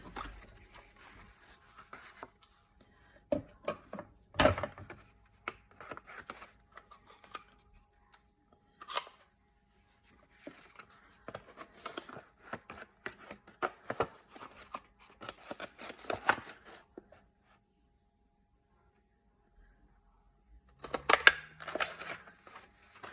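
Scissors snip a paper tab while a small envelope pocket journal is made, giving a few crisp close cuts and rustles in an otherwise quiet space, with a sharper burst of snipping near the end.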